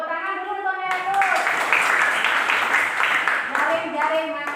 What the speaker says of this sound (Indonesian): Tepuk tangan dulu untuk Naila tuh.